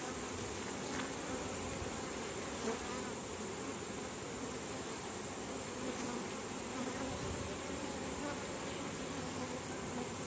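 A dense, steady swarm of honeybees buzzing close by on a hive frame, a continuous droning hum with no pauses and no voices.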